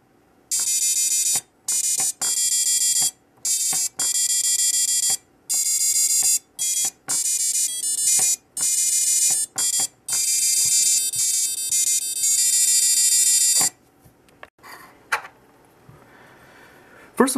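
The built-in piezo buzzer of a SquareWear 2.0 wearable board beeps out a tune, loud shrill tones of varying length broken by short gaps, then stops, leaving faint handling noises and a final click.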